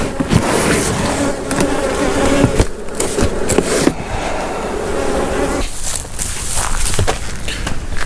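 Honey bees swarm and buzz loudly and continuously around an opened hive while a colony is being split in a bee yard, with scattered knocks and thumps of hive equipment breaking through the dense hum.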